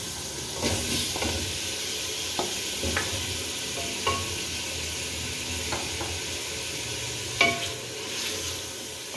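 Beef meatballs sizzle and fry steadily in a pan, with occasional scraping and stirring clicks over the hiss, close up and without speech.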